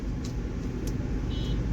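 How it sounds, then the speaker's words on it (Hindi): Heavy road traffic in Tezpur, Assam: a dense, continuous rumble of engines with brief higher horn-like tones over it. "अभी ट्रैफिक बहुत ज़्यादा लग गया है"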